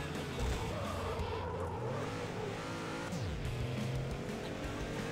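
Ford Mustang racing in a PCSX2-emulated video game, its engine droning steadily and loud throughout with shifting revs and a brief downward sweep as it brakes, no voices.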